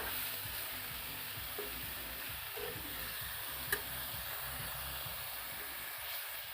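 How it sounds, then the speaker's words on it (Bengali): Leafy greens frying with garlic in a pan, a steady close sizzle and hiss running throughout with a brief utensil clink near the middle. "এবারে একদম ভাজা ভাজা করে নেবো শাকটা"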